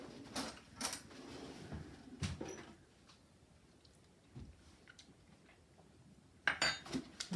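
A small metal spoon scrapes and taps against a dish of mashed potato in faint, scattered strokes, with a sharper clink and a brief flurry of scraping near the end.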